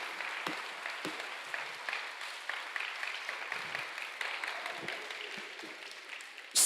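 Applause in a church during a Catholic sermon, a steady patter of many hands clapping at moderate distance for several seconds, ending abruptly with a loud knock.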